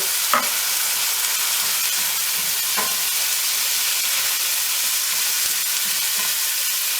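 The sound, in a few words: curry spices sizzling in pan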